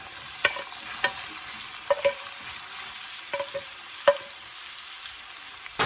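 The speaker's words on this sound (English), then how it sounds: "and then just caramelize the onion" Onions caramelizing in butter and olive oil in a pan, with a soft steady sizzle and several distinct scrapes and knocks of a utensil stirring, close and without talking.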